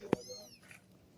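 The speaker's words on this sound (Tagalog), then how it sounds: "Oh, pusa!" A cat gives one short, sharp meow at close range, followed by quiet background noise and a faint rustle.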